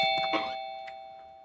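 A doorbell rings a single ding-dong chime whose tone lingers and fades over about a second, clear and alone.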